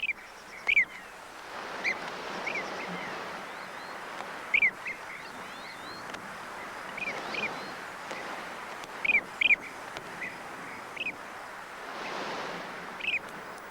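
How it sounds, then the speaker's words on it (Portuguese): Blue-cheeked bee-eaters calling in open desert, brief bright chirps scattered every few seconds over a steady wash of background hiss, with no voices present. "Abelheiros de cara azul, uma das nossas aves mais exóticas."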